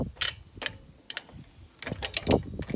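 Semi trailer wheel hub being turned by hand while its bearing nut is tightened, giving irregular metallic clicks and ratchety ticks, close and fairly quiet, with no talk.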